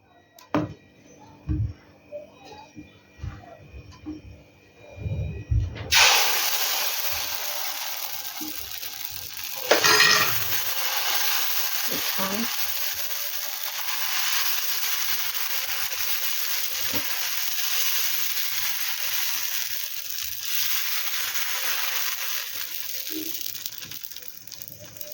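Mung dal dosa batter sizzling on a hot pan as it is spread out, a loud steady hiss that starts abruptly after some earlier clatter and holds to the end, with occasional scraping.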